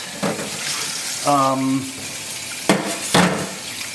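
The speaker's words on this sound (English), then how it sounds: "I'm just going to wash these well under water" Running tap water splashes steadily, broken by a few louder sloshes and splashes as catfish are rinsed, with a brief tonal sound in between.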